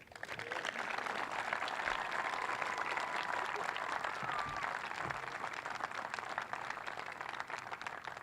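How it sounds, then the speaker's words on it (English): Sustained crowd applause at an outdoor statue unveiling at the Rose Bowl Stadium in Pasadena, steady dense clapping that fills the whole stretch at moderate distance, with faint voices scattered beneath. "give a big round of applause to our friend, our neighbor, and great contributor to Pasadena, Fred Clare."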